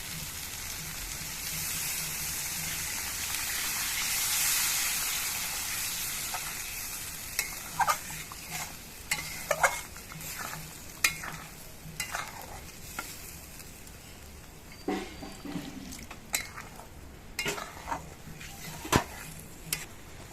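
Water is poured into sautéed masala in a hot pan while making wedding-style doi katla (Bengali yogurt fish curry): a steady loud sizzle, then softer sizzling broken by scraping stirring strokes and clinks of the spoon against the pan.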